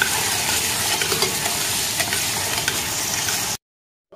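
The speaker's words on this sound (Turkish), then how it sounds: "Soğanla havucumuzu karamelize olacak dereceye kadar kavuracağız." Onion and carrot sautéing in a pan for a leek dish, a loud, dense continuous sizzle with occasional stirring scrapes, cutting off abruptly near the end.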